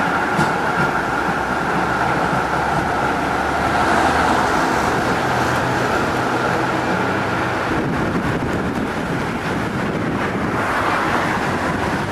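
A steady, loud rumble of a train running past nearby, broadband and continuous, with a rising hiss toward the end and no voices.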